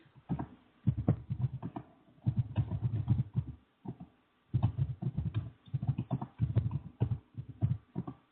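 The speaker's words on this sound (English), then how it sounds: "Someone's typing. I can hear a terrible noise." Rapid clattering keystrokes come in uneven bursts with short pauses between them, close by, with no voices.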